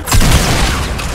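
A rocket explosion in Fortnite lands as one loud, close boom that swells quickly and then fades into a rumbling tail.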